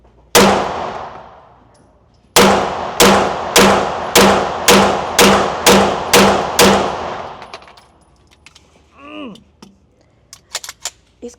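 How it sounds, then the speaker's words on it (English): A CZ Shadow 2 pistol fires one sharp shot, then after a short pause nine more in a quick, even string, loud and close, followed by faint clinks of handling. "10 more rounds of this Shadow 2, and I'm gonna try to see how it's shooting in my hand"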